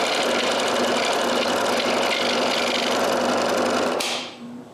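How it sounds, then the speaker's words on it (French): Scroll saw cutting through solid walnut to elongate screw holes, a steady dense buzzing rasp running continuously before stopping abruptly near the end, leaving a brief fading whir. "Et je les allonge donc tous avec la scie à chantourner."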